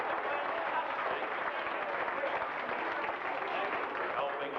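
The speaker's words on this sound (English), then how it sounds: "let's give David a round of applause" An audience at a live 1980s magic show applauds a volunteer helper, producing a steady wash of clapping that lasts the whole few seconds with no break.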